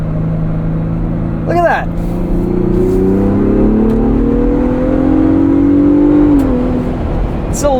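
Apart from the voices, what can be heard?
Ford Bronco Raptor accelerating onto highway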